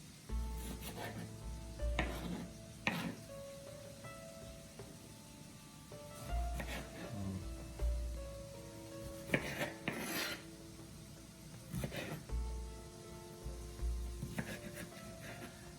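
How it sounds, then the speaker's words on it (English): Knife chopping fresh tomatoes into large chunks in a home kitchen, with repeated crisp cuts against a board in uneven bursts, moderately close and fairly quiet. "after cutting the tomatoes into these large, nice, fresh pieces"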